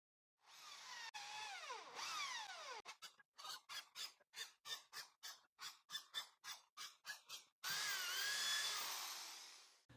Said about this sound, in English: The holes are drilled at these points using a 3 millimeter bit along with a 10 millimeter countersink.